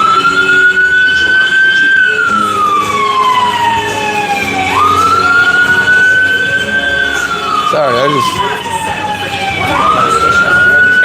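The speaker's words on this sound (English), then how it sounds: "ambulance is behind the Coca-Cola truck" An ambulance siren wails on a street, rising and falling in long slow sweeps, loud and close, with traffic rumble underneath and a short burst of talk partway through.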